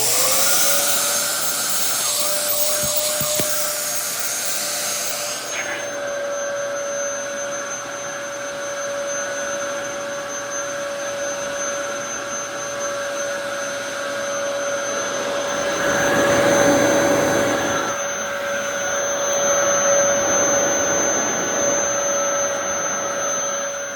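Vacuum cleaner running with its brush spinning, a loud steady motor whine with a high constant tone and a broad airy roar that swells briefly midway, no talking.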